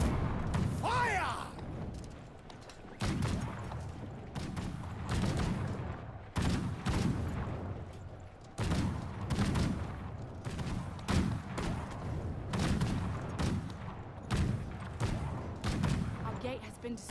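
Musket volleys in the video game Conqueror's Blade, repeated bursts of ragged gunfire in a battle amid a heavy low rumble, with shouted commands among the shots.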